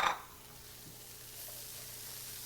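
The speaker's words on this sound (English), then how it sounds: "Mix it together, saute it on low flame" Chopped green peppers sauté in butter in a pan over a low flame, giving a soft, steady sizzle after a brief clatter at the start.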